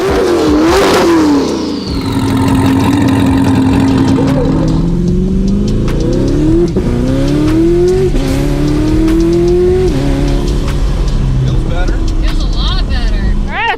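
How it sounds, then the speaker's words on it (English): A Chevrolet Corvette, being tuned for drag racing, is driven on the street. The engine is loud and close, and it revs up and down repeatedly through rising gear pulls with a steady rumble. "I think we need to do a little street driving with the Corvette to get the tune dialed"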